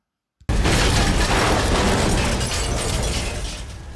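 A grenade explodes inside a car: a sudden massive blast after a brief click, then a dense roaring, crackling burst that slowly fades over several seconds, loud and close.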